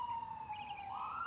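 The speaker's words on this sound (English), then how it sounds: "to listen to those birds, instead of the ambulance" An ambulance siren wails steadily on a single rising tone, fairly loud and sliding upward near the end as the vehicle passes, with no talk over it.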